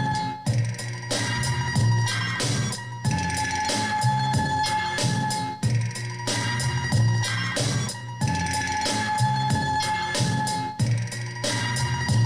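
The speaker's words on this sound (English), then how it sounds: "This is the one I called Clint Eastwood meets the boom bap" A boom bap hip-hop beat made on an SP-1200 sampler with a western, cowboy-film flavour: steady looping drums and bass under layered melodic samples, loud and continuous throughout with no talking.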